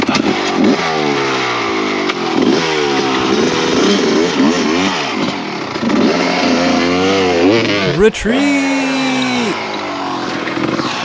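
An enduro motorcycle with a flooded carburetor revs loudly and unevenly, its engine note rising and falling in repeated surges close by, with a brief shout partway through.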